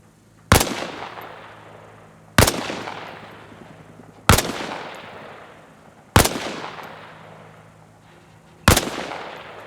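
Five single rifle shots fired at targets from a kneeling position in the Arma Reforger training scenario, each a sharp loud crack with a long decaying echo, spaced about two seconds apart over a low steady hum.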